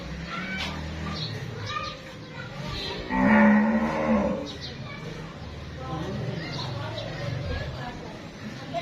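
A Friesian cross cow gives a loud, drawn-out moo in the middle, with people talking before and after it.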